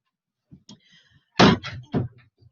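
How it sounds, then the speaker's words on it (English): A door is pushed shut with a solid thump, followed by a few softer knocks and rattles as it settles, heard close in a quiet room with no talking. "just shut the door, please."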